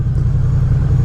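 A 2017 Triumph Street Cup motorcycle engine chugs at low throttle with a deep, steady, loud rumble, close and unbroken.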